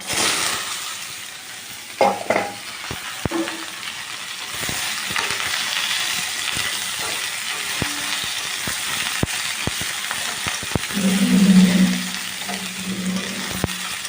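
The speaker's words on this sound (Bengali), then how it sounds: "তেলটা গরম হয়ে গেছে, আমি সবজিগুলো এর মধ্যে দিয়ে দিচ্ছি" Vegetables spit and sizzle in hot oil in a home kitchen pan, a steady frying hiss with occasional stirring clinks and scrapes, no one speaking.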